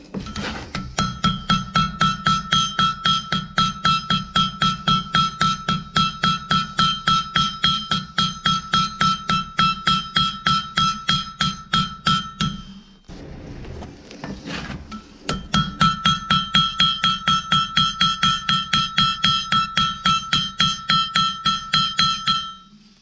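Steady, rhythmic hammer blows on hot steel while forge welding a biscuit cutter, ringing metallic strikes in a fast regular beat that pauses briefly midway, then resumes just as loud and close.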